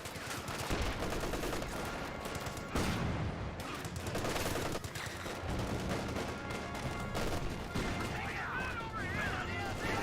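An MG42 machine gun fires during a Company of Heroes 2 battle, a loud, dense, continuous clatter of gunfire and booms, with a voice talking over it.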